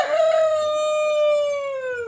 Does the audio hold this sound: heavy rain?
no